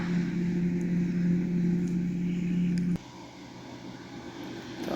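Small motorboat with a little outboard motor passing on the Desna river, a steady low engine drone that cuts off abruptly partway through, leaving quieter ambient noise.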